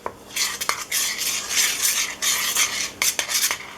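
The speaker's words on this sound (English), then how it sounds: "Stir it up." A spoon scrapes and clinks in a bowl as bran and milk are stirred, with close, repeated bursts of stirring broken by brief pauses and a few sharp clinks against the bowl.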